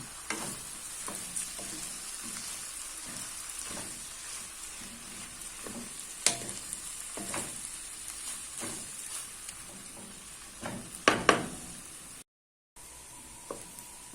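Rice, bell peppers and vegetables frying in a pan with a steady sizzle, punctuated by occasional stirring scrapes and clanks, close by.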